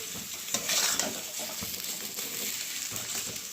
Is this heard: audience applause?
no